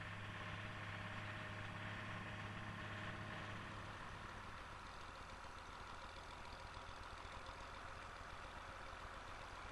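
A 1004 tractor engine runs steadily, a low continuous rumble with a constant drone, fairly faint and uninterrupted, the tone shifting slightly about halfway through as the load changes.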